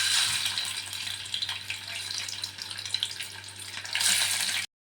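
Chopped boiled egg whites frying in a little oil, producing a bright, hissing sizzle that dips slightly midway and then swells loud again before stopping abruptly.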